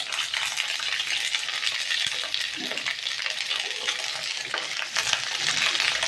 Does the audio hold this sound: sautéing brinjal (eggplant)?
yes